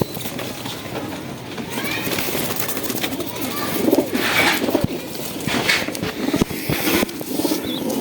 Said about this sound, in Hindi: तो दोस्तों इन्हें पकड़ो ना, तो ये चीं चीं कर रहे हैं